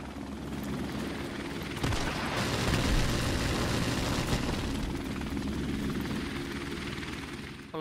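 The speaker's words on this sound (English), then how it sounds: "Friendly helicopter on the way!" A friendly helicopter in Modern Warfare Remastered thunders with a steady, heavy rotor roar, a continuous loud drone joined by a low booming impact partway through, with no voices over it.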